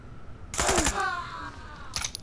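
A suppressed AKS-74U rifle fires subsonic ammunition in a quick burst of several loud, close shots, followed by a shorter burst a moment later.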